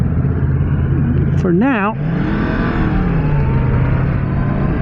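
A Yamaha MT-10 SP motorcycle engine rumbles continuously while riding, with wind noise throughout. A brief spoken phrase comes near the start, then the engine drone continues alone.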